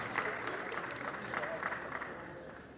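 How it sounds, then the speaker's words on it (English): Audience applause at a welcome gathering in Ile-Ife, a fairly soft, even patter of many hands with crowd murmur mixed in. "Please, let's give him another round of applause."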